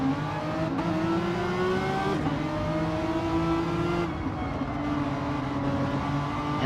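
Race car in a sim racing endurance event at the Nurburgring, its engine droning loud and close as it enters pit lane, pitch stepping through gear changes with a steady buzzing tone and no talk.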